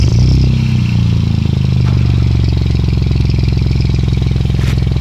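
The engine of a modified 2016 Hyundai i20 runs up and settles into a steady, rumbling idle with a slightly clattery, diesel-like character, loud and close throughout.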